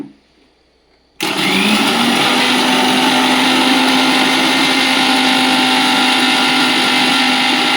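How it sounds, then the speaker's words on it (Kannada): An electric mixer grinder whirs loudly and steadily, blending spiced buttermilk (masala majjige) ingredients with water, starting abruptly after a brief quiet moment and running continuously without pause. "ಮೇಲೆ ನೀರು ಹಾಕಿ ಮಿಕ್ಸಿ ಮಾಡ್ಕೋಬೇಕು."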